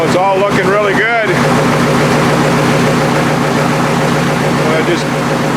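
Piper Supercub engine idles in a steady, loud, close drone with a low pulsing throb throughout, briefly joined early on by an overlapping voice.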